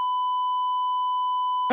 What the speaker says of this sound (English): Which one's the beep button?